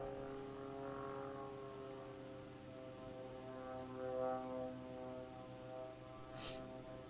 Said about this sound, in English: listen to how loud that plane is that far away from us right now